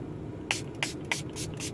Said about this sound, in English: let me spray one more setting spray